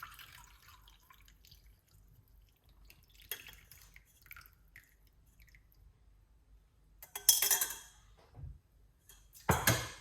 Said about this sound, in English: All right, I'm going to pour it off right now.